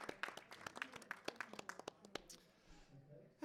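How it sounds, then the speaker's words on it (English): Audience applause at a photography print judging session, a short burst of scattered hand clapping from a room of people that quickly thins out and fades to quiet. "Round of applause."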